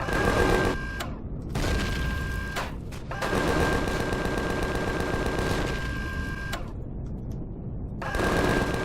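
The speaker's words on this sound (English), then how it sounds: "So I'm going to take those out too with the minigun." Minigun fire in the sci-fi video game Empyrion: loud, continuous rapid bursts with a steady whine, broken by short gaps into several long sustained volleys.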